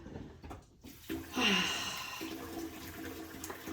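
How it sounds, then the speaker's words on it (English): Tap water runs steadily in a kitchen sink while hands are washed under it, starting with a brief clatter and then a continuous close splashing rush that lasts to the end, with no speech. "I'm going to wash my hands."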